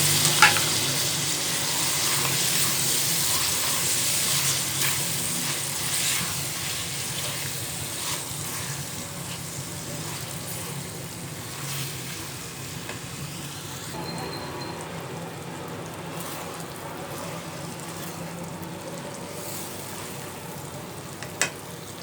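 Potato pieces fry in hot masala in a pan, giving a steady, dense sizzle that gradually softens while occasional stirring scrapes cut through it.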